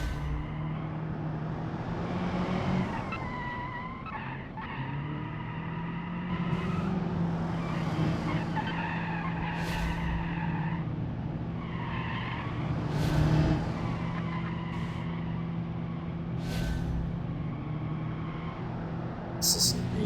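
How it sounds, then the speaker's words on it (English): A Toyota Supra in BeamNG.drive revs and shifts along a track, its exhaust droning loudly and rising and falling in pitch, with repeated tire squeals and skids breaking through during cornering. "I need to adjust the exhaust volume on the Supra so that it's not so loud"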